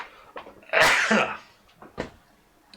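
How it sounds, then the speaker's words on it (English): A single loud, sharp sneeze bursts out after a quick intake of breath, followed by a softer exhale and a small sniff. "Excuse me, I'm going to sneeze."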